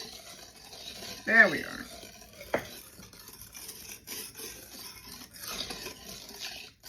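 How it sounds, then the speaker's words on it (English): Milk is gently stirred a little at a time into chocolate pie filling in a pan: soft, steady spoon scraping and faint clinks run throughout, with a brief spoken remark early on. "just going to gently stir this in"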